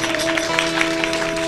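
An audience at a Shrimad Bhagwat Katha religious discourse claps in a dense, continuous patter, loud and close, with a steady musical drone tone sustained underneath the applause.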